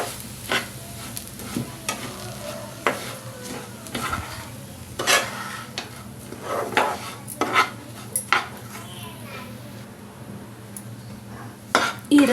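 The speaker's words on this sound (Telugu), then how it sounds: "1 కప్పు బొంబాయి రవ్వ, దీన్ని ఆయిల్లో బాగా ఫ్రై చేసుకుందాం." Dry Bombay rava semolina stirred and fried in oil in a pan for khara bath, with repeated scraping clinks of a spoon against the pan over a steady low sizzle, close and moderately loud, with no talking.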